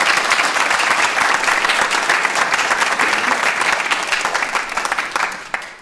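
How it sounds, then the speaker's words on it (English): A graduation audience gives loud, sustained applause for music students, with dense clapping from many people that continues evenly and then tapers off sharply at the end. "applause for our fantastic music students"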